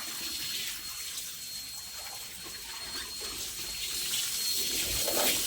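Water runs steadily from a tap into a sink, a constant close splashing stream that grows slightly louder toward the end.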